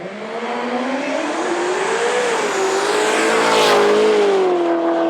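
Corvette making a drag racing pass at Knoxville Dragway, a loud sustained engine drone rising steadily in pitch as it accelerates down the strip, heard from nearby without talk.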